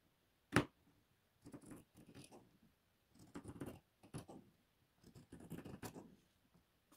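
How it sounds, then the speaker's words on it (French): Scissors snip through strips of terry towelling fabric in short close bursts of crisp cutting and rustling, irregularly spaced with quiet gaps, after one sharp louder crack at the start. "on coupe les bandes"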